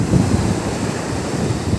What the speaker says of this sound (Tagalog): Galit na galit ang alon ngayon.